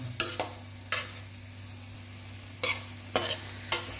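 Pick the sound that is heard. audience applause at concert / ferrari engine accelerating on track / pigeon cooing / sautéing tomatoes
sautéing tomatoes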